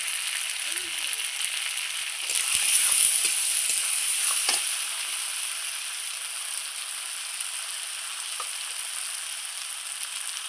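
Masala spices sizzle in a pan as they are stirred, a steady hissing fry that swells briefly with a few scraping strokes before settling into a quieter continuous sizzle.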